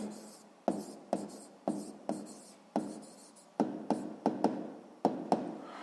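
A pen writes out a math proportion on paper, giving a series of close, distinct scratching strokes in irregular bursts with short pauses between them. No voice is heard.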